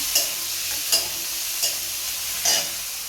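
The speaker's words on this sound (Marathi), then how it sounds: "परतून घेतो चांगला" Onion sautéing in a pan with a steady close sizzle, broken by four spaced scraping strokes of a spoon stirring.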